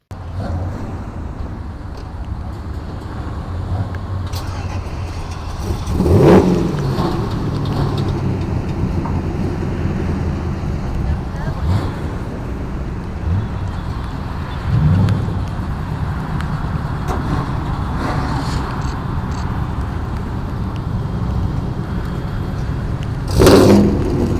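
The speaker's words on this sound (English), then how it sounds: "We got to enjoy the cars driving by" Cars roll past at a car cruise on the way to a Buc-ee's in Waycross, a steady low traffic rumble with a few louder passes building and fading, faint voices now and then.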